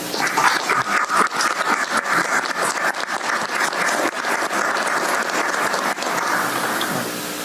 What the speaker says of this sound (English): I think we all owe her a round of applause